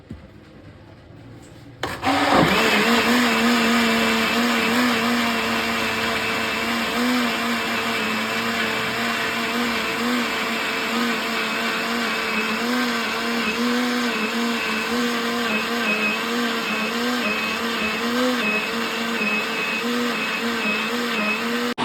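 Kitchen mixer grinder churning cream with ice to make butter for desi ghee, starting abruptly after a quiet moment and then running as a loud, steady motor whine with a churning rattle.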